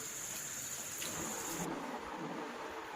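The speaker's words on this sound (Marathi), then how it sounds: "बाहेर पाऊस येत होता" Steady rain falls outside a house during a power cut, a dense continuous hiss at moderate level with no voices, the texture shifting slightly partway through.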